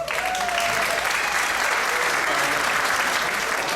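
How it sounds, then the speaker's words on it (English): Comedy club audience at a live stand-up show in Mazatlan applauds steadily, a dense even wash of clapping with a few cheers and whoops, near and loud throughout. "By round of applause, married people."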